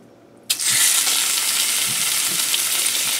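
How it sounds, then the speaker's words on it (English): Sous vide steaks dropped into a skillet of hot olive oil, an abrupt loud burst of searing that settles into a steady, intense hiss and sizzle right up close. "We're going to go ahead and get the steaks in there and get a nice sear on them."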